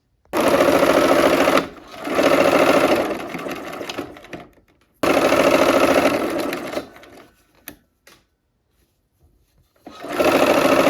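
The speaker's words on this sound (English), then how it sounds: "Let's go ahead and sew." A sewing machine stitches quilt pieces in close, loud bursts of rapid whirring, with a few seconds of running, a pause, another long run, and a quiet stretch with faint clicks before stitching resumes.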